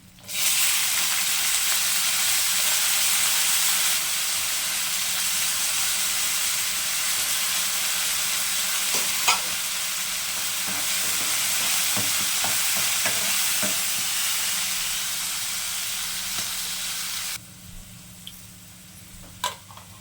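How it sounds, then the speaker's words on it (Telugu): Peas fry in a pan, a strong, even hiss of sizzling oil with occasional stirring clicks, easing down near the end. "బఠానీలు వేస్తున్నానండి."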